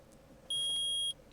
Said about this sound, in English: I permit the use of the metal detector.